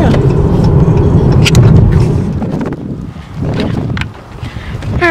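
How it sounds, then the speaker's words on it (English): Gusty wind blows outdoors on a park trail and buffets the microphone in heavy rumbling surges that ease and return, with faint scattered sounds between the gusts. "it's a little bit more windy out here than we anticipated"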